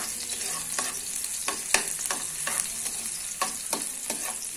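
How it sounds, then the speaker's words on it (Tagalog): Ginger, garlic and onion fry in a pan, a soft steady sizzle broken by regular clinks and scrapes of a utensil stirring, with no voices. "ilalagay na natin ang ating bawang. Ay, luya. Una luya, bawang, at sibuyas."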